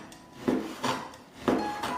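A knife cuts through a slab of pork belly on a board, giving three or four distinct slicing scrapes and knocks in an uneven rhythm, close and moderately loud, with no voices.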